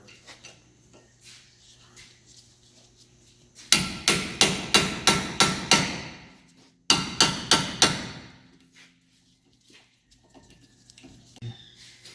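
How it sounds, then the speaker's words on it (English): An impact screwdriver is hammered against a Kia front brake rotor, ringing out in two close, loud volleys of sharp metallic strikes, six and then four in quick steady rhythm, within an otherwise quiet garage. "Just using an impact screwdriver here."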